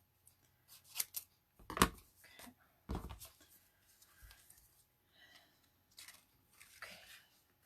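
Scissors snip through paper while a paper hat is cut out for a Christmas craft: a few close, sharp cuts come in irregular bursts, with small rustles and handling noises between them in a quiet room.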